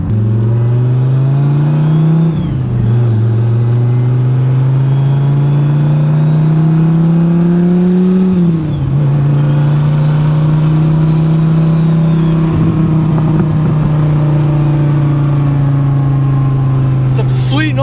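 A twin-turbo Dodge Viper ACR engine hums loudly and steadily from close by. Its pitch rises and dips in two light blips of throttle, and people talk over it.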